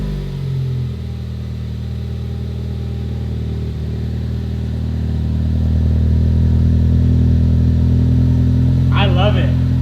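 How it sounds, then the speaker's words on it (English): A Ford Focus ST fitted with a Cobb catback exhaust starts up and settles into a steady, deep idle that grows slightly louder toward the end, with a brief voice near the close. "We get to start it up, and I finally get to hear my new Cobb Catback exhaust."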